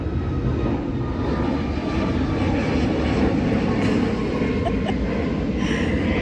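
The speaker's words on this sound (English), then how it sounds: "Plane is going over, guys." A loud, constant roar of an airplane passing overhead, droning steadily throughout with no pause.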